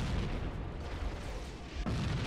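Rocket launcher blast in Halo: Combat Evolved during a co-op Legendary fight against a Wraith, heard as sustained low booming rumble with a sharper burst near the end, loud and continuous without talk.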